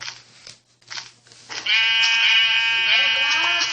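A sheep in Minecraft lets out a short bleat after a few quiet moments with faint thumps, followed by a sustained buzzy, wavering bleat that holds loudly to the end.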